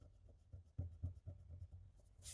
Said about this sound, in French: Je gomme.